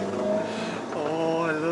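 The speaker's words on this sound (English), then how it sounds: "From the outside, it sounds phenomenal. It's a very loud Ferrari." A Ferrari SF90 Stradale is heard from outside as a loud, steady engine drone with rising harmonic tones, under a voice talking.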